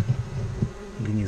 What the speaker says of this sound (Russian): это то, что пчелы умудрились жить с осами